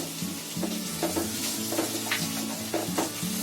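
Chilli masala frying in hot oil in a home kitchen pan, a dense continuous sizzle with a few soft scrapes and clinks of stirring, close and steady with no talking.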